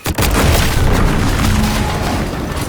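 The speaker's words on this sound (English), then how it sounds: "An explosion?" A loud boom from an explosion in The Outer Worlds 2 erupts near the start, then a dense, rumbling roar carries on steadily for the rest of the clip.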